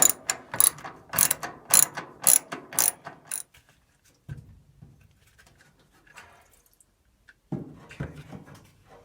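A square-bit screwdriver backs screws out of a bracket on a Frigidaire top-load washing machine, giving a run of sharp ratcheting clicks in quick bursts, then a pause and a few softer handling knocks.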